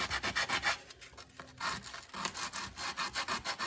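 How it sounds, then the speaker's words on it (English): A wooden guitar body is sanded by hand in steady, rhythmic back-and-forth rasping strokes, close and fairly loud, with a short pause midway and no voices. "We want to sand that a little bit just to"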